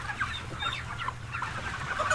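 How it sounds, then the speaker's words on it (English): A hen on an industrial farm, sick and unable to stand, makes steady nearby clucking and rustling sounds, with soft fluttering bursts throughout. "This chicken flaps her wings, trying desperately to stand up,"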